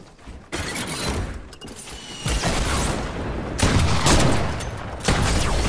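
Bursts of rapid gunfire from a video game squad match come in dense, loud, close volleys. Sharp shots and impacts shift in intensity, with no speech.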